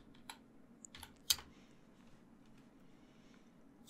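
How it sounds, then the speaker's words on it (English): Several quick keystrokes on a computer keyboard, entering a web address, fall in a brief burst near the start before the typing stops and only quiet room tone remains. "So we'll type in moodle.org"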